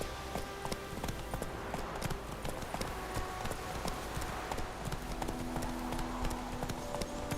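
Roach the horse gallops in The Witcher 3, with rapid, steady hoofbeats clip-clopping close and clear throughout while a faint game soundtrack plays beneath.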